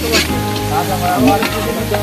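Onions and garlic fry in oil for beef kala bhuna, a loud, close, continuous sizzle with intermittent stirring scrapes and crackles.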